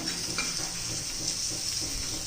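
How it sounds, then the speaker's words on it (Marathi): Fish pieces shallow-fry in a little oil, giving a soft, steady sizzle and crackle in the pan, faint and continuous with no voices. "तळून नाही म्हणजे असे फ्राय करून घेते थोडं थोडं तेल टाकून"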